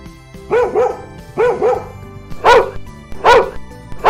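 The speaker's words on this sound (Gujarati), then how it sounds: "રાજા અચાનક જોરથી ભસવા લાગે છે." A pet dog barks loudly close by near a house, giving a pair of barks, then another pair, then three single sharp barks in an irregular rhythm.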